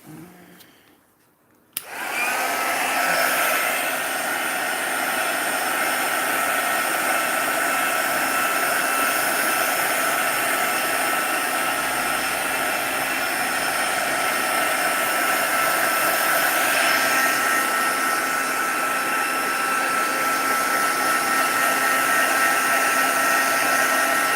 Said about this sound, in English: we'll use the heat tool again to see if there's any more cells going to come through